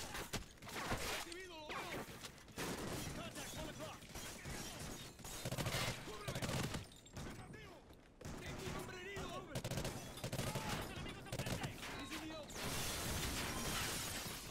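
Dense, continuous gunfire from the Call of Duty Ghosts shooter on PS4, overlapping bursts and rapid shots filling the whole stretch with only brief lulls, with a player talking over the action.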